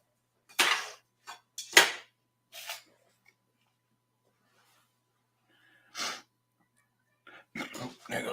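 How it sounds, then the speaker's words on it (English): A few sharp nasal sniffles and breathy snorts, close and fairly loud, come in short bursts with long silent gaps between them. "there goes that sniffle again"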